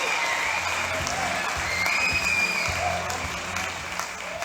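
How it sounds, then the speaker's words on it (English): Audience applause at a book launch, steady dense clapping held for several seconds in a hall, with a faint murmur of voices beneath it. "We don't stop clapping for the chairman until he's taken a seat."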